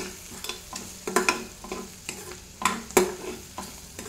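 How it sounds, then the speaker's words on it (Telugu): A ridge gourd and egg curry with mint and coriander is stirred in a hot pan, a rhythmic series of close scraping spoon strokes over a soft continuous sizzle. "దీన్ని ఒకసారి ఇలా కలుపుకోవాలి. మాడనివ్వకుండా కలపాలి."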